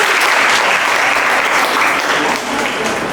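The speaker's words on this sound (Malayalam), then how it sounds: "ഒരു ക്ലാപ്പ് കൊടുത്ത്" An audience at a talk claps together in a dense, loud round of applause that holds steady and eases slightly toward the end.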